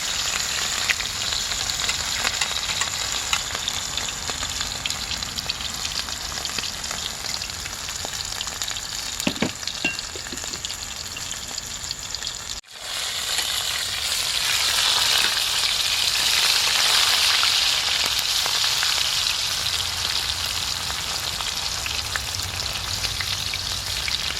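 Fish frying in hot oil in a pot for a Jamaican-style stir fry, a steady, close sizzle and crackle that runs continuously and swells brighter partway through.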